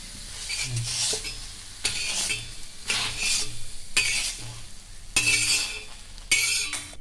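Spices and ingredients for village-style chicken sambar are dry-roasted in a pan, stirred in repeated bursts of scraping and rattling with a soft sizzle, loud and close, pausing briefly between strokes.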